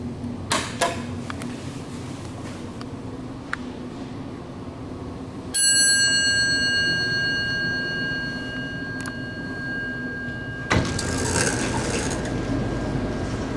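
Vintage Westinghouse traction elevator in a Durham, NC office building sounds its dinner-bell chime, a single bright ringing tone that sustains and slowly decays for several seconds, set against soft cab rumble and occasional knocks.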